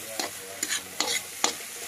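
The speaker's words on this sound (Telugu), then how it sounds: "మొత్తంతో మసాలని కలిసి మిక్స్ చేసుకోవాలి." Yippee noodles with masala stirred and tossed in a hot pan, fast-food-centre style. Four separate scraping, sizzling strokes come at a steady pace, close by, with no voices.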